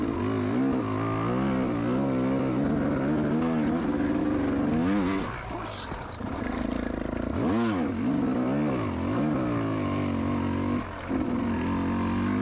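An enduro motorcycle is ridden hard in first gear through an obstacle section during a 40+ class qualifying race, its engine revving loudly and continuously with rising and falling pitch sweeps, close and dominant throughout.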